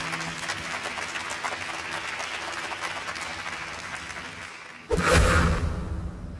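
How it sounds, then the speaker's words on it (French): Applause in a French drama series scene, moderate clapping from a small crowd sustained for about five seconds, followed by a sudden louder burst of noise. "Un tonnerre d'applaudissements pour Munoz"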